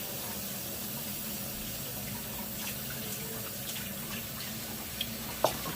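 A kitchen sink faucet runs steadily as dishes are about to be washed, a continuous moderate wash of water with faint clinks near the end and no talking.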